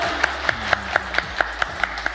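Clapping during a live stream session with a band, a sparse even rhythm of single claps about four per second, over a low background hum and music.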